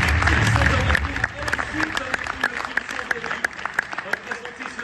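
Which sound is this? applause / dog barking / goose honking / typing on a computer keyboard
applause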